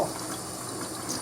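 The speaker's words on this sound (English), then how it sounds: "Let me put my water on." Kitchen tap water runs in a steady, close rush while someone bakes homemade cheese snacks, brief and unaccompanied by talk.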